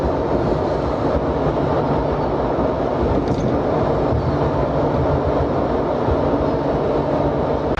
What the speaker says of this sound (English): it's the city tram, which goes straight down and will get you there in about 5 minutes